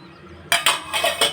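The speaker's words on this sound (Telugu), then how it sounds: "ఒక్క స్పూన్ పెరుగు వేసుకుని మిక్స్ చేసుకోవాలి." A spoon clinks against a dish while mixing curd, a few close metallic taps and scrapes after a brief quiet start.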